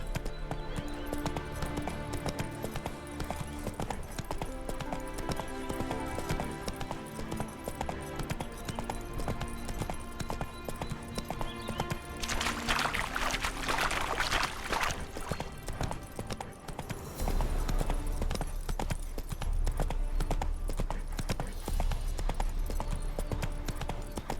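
Steady rhythmic horse hoofbeats clip-clopping in The Witcher 3: Wild Hunt, under a full musical score, with a brief burst of louder noise midway.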